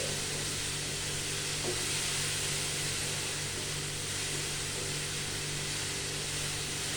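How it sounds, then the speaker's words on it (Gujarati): Chopped tomatoes cook in a pan over a high gas flame while being stirred, giving a constant, even sizzle and hiss with no voices. "આપણે ગેસ ફાસ્ટ જ રાખ્યો છે અહીંયા અને વારે ઘડી આપણે આવી રીતે હલાવતા જવાનું"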